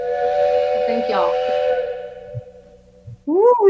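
Train whistle sound effect at a live music show, a sustained steam-whistle tone held for about two seconds before fading, with faint stage noise and a voice starting at the end.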